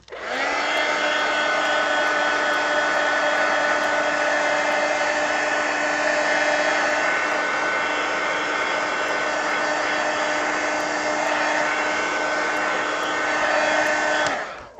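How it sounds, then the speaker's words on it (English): A heat gun drying a painted coloring page, with a steady loud whirring blow and an even tone that starts abruptly, holds for about fourteen seconds, and cuts off. "Heat gun."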